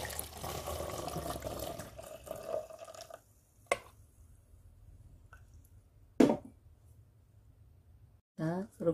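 Pear liquor infused with licorice pours through a funnel into a bottle, making a gurgling, trickling liquid sound at first that fades to quiet drips. A few sharp clinks follow, and a voice speaks near the end.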